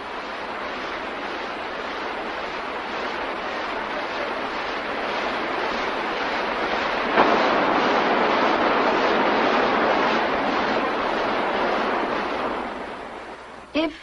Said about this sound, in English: we went to visit the Tenkwa waterfalls